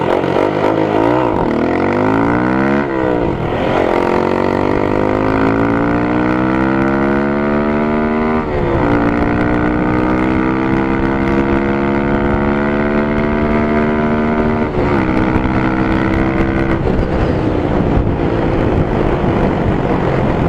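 Motorcycle fitted with a lightweight Yoshimura USA slip-on performance exhaust, heard while riding: a loud, continuous engine note rising and falling through several gear shifts, close and without talk.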